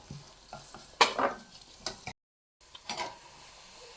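Rice tipped into a pan of softened pumpkin for risotto and stirred, with a sharp scrape and spoon clatter, bursts of light frying crackle, and a brief silent gap before quieter stirring resumes.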